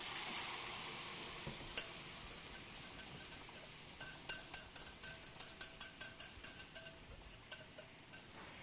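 Salisbury steak simmering in sauce in a pan gives a steady low sizzle and bubbling, with a run of light clinks and taps from stirring or a utensil against the pan in the second half.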